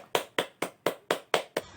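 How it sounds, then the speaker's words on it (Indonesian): Seven sharp, evenly spaced claps ring out close by in a quick, steady rhythm in a primary school classroom, without any talking. "Tepuk tangan untuk kelompok 1."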